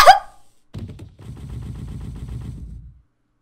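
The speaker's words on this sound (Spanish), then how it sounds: "¡Que me ha disparado!" Gunfire in the Yandere Simulator video game: a sharp opening shot, then after a brief pause a rapid, steady burst of repeated shots that runs for about two seconds before cutting off.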